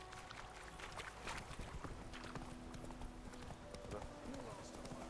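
Hooves of the horse Roach clip-clopping steadily in The Witcher 3, a continuous rhythmic trot under an ambient game soundscape, moderately loud and close, with a voice speaking over it.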